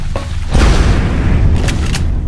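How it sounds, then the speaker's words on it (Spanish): A single loud, close gunshot boom from the turn-based strategy video game XCOM, with a low rumbling tail and faint game effects after it. "Vale, disparo"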